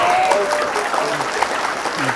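Audience applause at a stand-up comedy show, a steady wash of clapping filling the room for a couple of seconds, with some voices mixed in.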